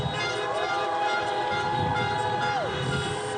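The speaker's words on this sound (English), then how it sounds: "Honk your horn if you want to have civility again." Car horns honk at a political rally, several sustained overlapping blasts with pitch shifts, heard steadily over crowd noise.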